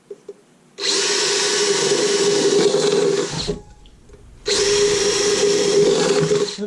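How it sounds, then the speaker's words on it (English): A power drill bores into a metal soup can in two long, loud, steady whines, separated by a short pause, with the high grinding buzz close to the recorder. "Drill, please."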